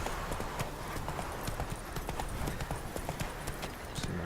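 An armored horse in The Witcher 3 trots with a steady, rhythmic clip-clop of hooves, fairly close and moderately loud, over a soft ambient background.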